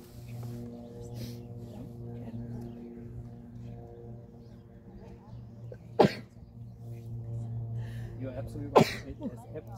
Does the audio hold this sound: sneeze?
yes